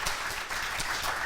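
A conference audience applauds speakers at a lightning talks session, a brief burst of dense clapping that stays fairly steady throughout.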